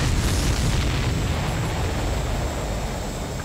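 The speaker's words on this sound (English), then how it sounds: "Did you see that explosion?" A deep, sustained rumbling roar fills the space, loud and steady without pause, like a big explosion's blast rolling on, from an explosion in the video game Ace Combat 7: Skies Unknown.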